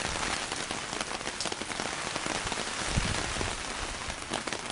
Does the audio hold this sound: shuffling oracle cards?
no